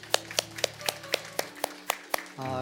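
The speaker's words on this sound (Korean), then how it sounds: "우리 하나님께 감사의 박수를 드리겠습니다." A church congregation clapping in unison at a Sunday service, about nine sharp, evenly spaced claps in a steady rhythm over soft background music, stopping as a voice begins speaking at the end.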